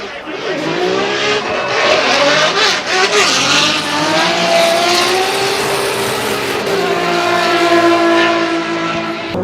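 A drift car at a Formula DRIFT Japan round pops and spits flames on its victory lap, its engine revving loudly and steadily with tire noise throughout, while a commentator talks over it.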